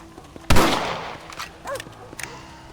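A single close, sharp rifle shot cracks and rings out in the Western game Red Dead Redemption, followed by a fading tail and faint scattered background sounds.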